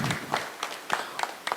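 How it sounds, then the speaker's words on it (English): A small crowd at a journalism awards ceremony in Kenya claps for the second runner-up with a thin, uneven scattering of distinct claps, nearby and moderately loud, a handful of hands rather than a full ovation. "Let's give him a big round of applause"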